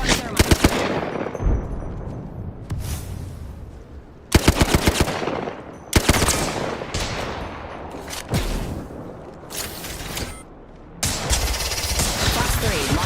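Video game gunfire: rapid automatic bursts and heavy single shots in loud, dense volleys with brief gaps, sustained throughout at close range.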